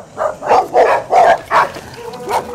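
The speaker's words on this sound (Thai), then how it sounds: "ไม่ต้องเห่าลูก" A dog barks loudly and close by, about six sharp barks in an uneven run lasting a couple of seconds, with no other sound.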